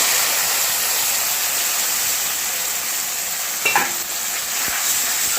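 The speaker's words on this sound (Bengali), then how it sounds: "মশলাটাকে আমি ভালো করে কষিয়ে নেব" Spice paste is cooked down with fried onions in a pan for a fish curry, making a loud, steady sizzle throughout, with a brief scrape of stirring near the end.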